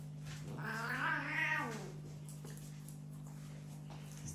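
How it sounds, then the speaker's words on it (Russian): An angry cat yowls in a rising, wavering cry for about a second and a half, close and fairly loud, then falls quiet over a steady electrical hum. "Разозлил кота."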